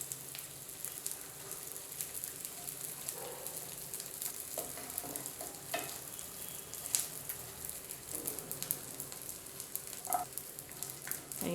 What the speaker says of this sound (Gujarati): અહીંયા આપણું ઘી ગરમ થઈ જાય એટલે થોડો ગુંદર લેતા જાશું અને તળતા જાશું